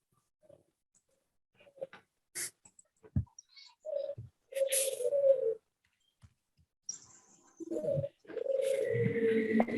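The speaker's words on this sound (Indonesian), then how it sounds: "Ada suara burung-burung gitu." Pigeons coo in low, repeated bursts while other birds chirp with short, scattered calls, fairly close and otherwise quiet with no talk.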